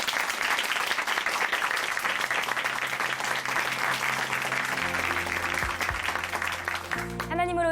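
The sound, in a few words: audience applause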